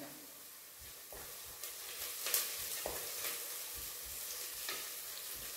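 Chopped garlic and grated ginger sizzle steadily in hot oil in a pan while a millet dal khichdi is being made, with soft stirring clinks and scrapes now and then.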